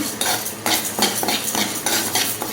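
Cumin, fenugreek and toor dal dry-roasting in a pan, stirred with a spoon in repeated scraping strokes, a steady gritty rustle with soft clinks close by.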